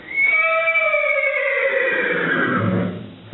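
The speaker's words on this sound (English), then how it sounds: "That's our noisy horse next door." A horse next door gives a single loud, clear whinny that slides downward in pitch over a few seconds and ends in breathy snorts, heard alone.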